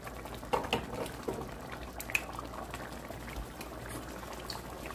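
Turkey simmers in a pot with liquid bubbling steadily, close-up with irregular pops and bursts over a constant low boil.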